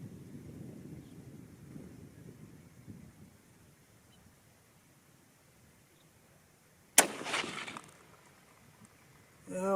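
A single sharp crack from a 30-06 Springfield rifle firing a 165gn Sierra GameKing load, abrupt and loud with a brief rolling echo after it, then quiet outdoor air and faint wind noise.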